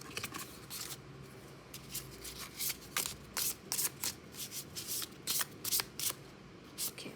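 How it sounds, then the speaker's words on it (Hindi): Tarot cards shuffled close up in quick riffling bursts, crisp papery flutters repeating at an uneven rhythm with short pauses between, no voices. "I shuffle 1 more time and then फिर से हम देखेंगे इन कार्ड्स को"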